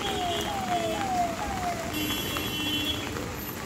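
Steady rain hisses evenly throughout, a dense, constant patter outdoors in a town street, with a few faint whistling tones passing over it.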